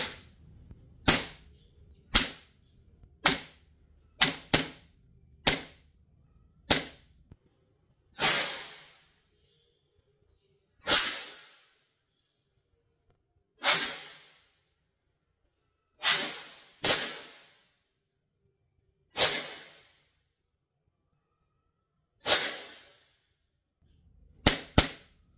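An airsoft gun fitted with an R&G T238 nano flame tracer unit fires sharp shots, a quick burst of about eight up front and then a slower string of single cracks spaced a second or two apart, loud and close with no talk.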